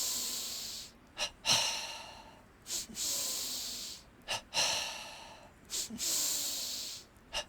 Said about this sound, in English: Double breathing, belly to chest.